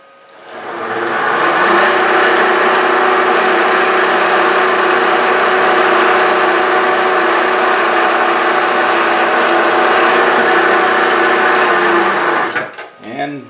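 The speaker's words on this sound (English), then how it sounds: "put our drill bit right through" A steady, high-pitched whine of a drill boring through material runs continuously for about eleven seconds, loud and close, then cuts off abruptly.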